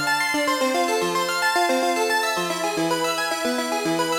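A Prophet 12 synthesizer running a Zelda-style arpeggio preset, with bright rapid notes stepping through a repeating melodic pattern at steady volume, heard alone and close.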